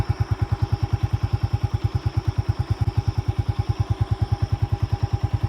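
A motorcycle cruises along a road near the border on an Independence Day ride, its engine beating in a fast, steady, loud thumping pulse that holds even throughout, with no talk over it.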